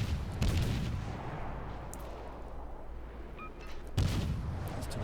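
Battleship guns fire in the naval video game World of Warships, with heavy booming salvos at the start and again near the end and a rumbling low tail between them.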